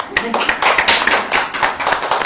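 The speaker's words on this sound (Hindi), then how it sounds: "ताली बजाओ, ऐसे ताली बजती।" A church congregation claps hands in a loud, rapid and slightly uneven burst of many overlapping claps, sustained for a couple of seconds.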